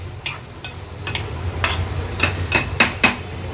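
Stuffing mixture stirred in a pan over high flame, a spoon or spatula scraping and clinking against the metal in several distinct strokes over a low steady background, fairly close.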